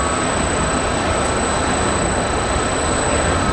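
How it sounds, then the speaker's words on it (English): Constant broadband digital hiss and hum from motor control center drives inside a biomass power plant, loud, dense and unbroken, with a thin high whine riding on top. "That digital noise you hear in the background is why they're all located in a box away from the employees."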